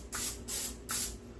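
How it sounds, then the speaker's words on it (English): Cooking spray hissing onto a muffin pan in three quick, close bursts separated by short pauses, with no talking over it. "take your pan and spray your muffin pan so that when you take them out of the freezer, they won't stick"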